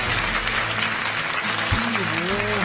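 A studio audience at a Brazilian talk show applauds to welcome a guest, a dense, steady burst of clapping close by, with a low musical tone running underneath.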